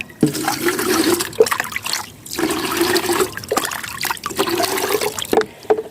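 Scoops of a mixed liquid plant tonic are poured into a garden watering can in three splashing, gurgling bursts separated by short pauses, close and fairly loud.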